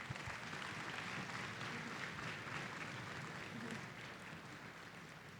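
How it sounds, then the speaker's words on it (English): Steady applause from a concert audience at a school orchestra performance, honoring the student video production class filming and streaming the show; dense continuous clapping filling the room, even and sustained with no talk over it. "so let's give them a big round of applause."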